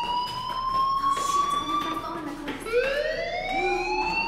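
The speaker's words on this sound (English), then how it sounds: "do you hear that fire alarm?" In the video game Life is Strange, a school fire alarm wails loudly with rising and falling electronic tones, repeating across the whole stretch over a murmur of background noise.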